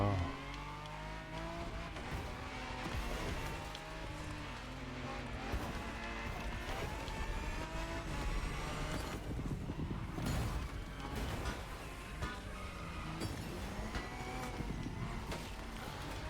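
Race cars in The Crew Motorfest driving game roar past with nitro boost, a loud continuous blend of revving engines, rising whines and tire noise filling the whole stretch without talk.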